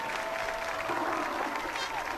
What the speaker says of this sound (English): let's give a big round of applause for the